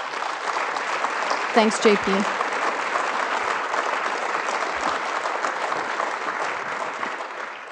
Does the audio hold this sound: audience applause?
yes